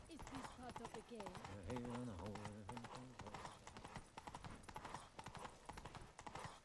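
Horse galloping in the video game Witcher 3: Wild Hunt (Blood and Wine), with rapid, steady clip-clop hoofbeats throughout and game voices briefly calling out over them.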